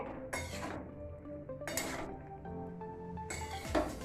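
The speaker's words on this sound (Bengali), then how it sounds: "নুনটা দিয়ে ভালো করে মিশিয়ে নিচ্ছি সবজিগুলোকে" A metal spoon stirring mixed vegetables with salt in a cooking pot for Bengali dudh shukto. Three distinct bursts of scraping and clinking against the pot are separated by quieter pauses, all close and clear with no talk over them.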